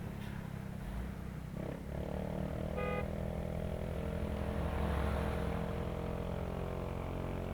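A motorcycle engine runs continuously with a steady mid-pitched drone that swells slightly partway through, fairly close and moderately loud, with no talking.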